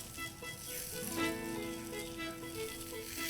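Val beans roast lightly in a pan, a faint, close, continuous soft sizzle with small clinks and scrapes under it and no talking.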